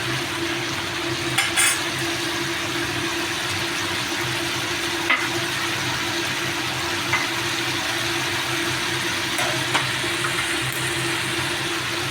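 Koi fish fry in hot oil with a steady, dense sizzle throughout, close and fairly loud, with a few faint clicks. No one talks.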